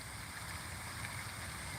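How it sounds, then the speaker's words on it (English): Water runs steadily along a shore in a continuous, even wash of soft broadband flow, moderately close and without voices. "Listen to the sound of the water."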